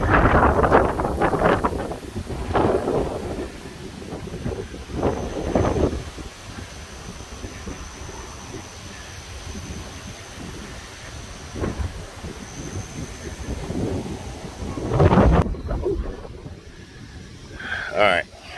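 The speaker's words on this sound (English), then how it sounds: "Y'all hear that wind?" Strong gusty wind ahead of a storm on a homestead, roaring and buffeting the microphone in loud surges, with people talking and calling out over it.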